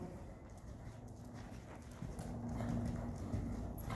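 Horse hooves at a medium canter in an arena during a riding lesson, a rhythmic clip-clop that grows louder partway through, fairly faint with no voices.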